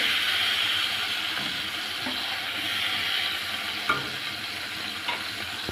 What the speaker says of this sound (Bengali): চিংড়ি মাছগুলো ভাজা শেষ